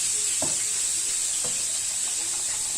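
Fish seasoning of cumin and black pepper being stirred in a pan for tilapia, a soft steady sizzle with faint scraping strokes at a slow, irregular pace, fairly close, with no talking.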